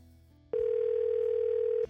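A single steady telephone tone sounds abruptly after a short quiet moment and holds for just over a second before cutting off, loud and close, like a call ringing out.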